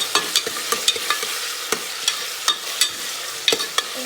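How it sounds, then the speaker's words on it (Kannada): Tomato being stirred into frying vegetable pulao with onion in a pan, a soft sizzle under repeated sharp scraping and tapping of the spoon at an irregular quick rhythm. "ಟೊಮ್ಯಾಟೊ ಒಂಜಿ ಮುಂಚಿ ಮಿಕ್ಸ್ ಮಾಡ್ತಾರೆ"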